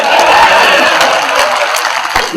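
Continuous applause from a large audience at a Hindi comedy poetry show (kavi sammelan), loud and steady throughout, crowd noise washing across the whole moment.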